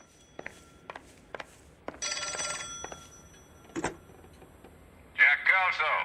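Telephone bell in Kelso's apartment in the game L.A. Noire rings in a loud burst, followed by scattered knocks and a second ring, then a voice speaks near the end.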